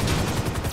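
Dense, rapid gunfire crackles continuously in Grand Theft Auto V, automatic weapons firing loud and close with overlapping bursts.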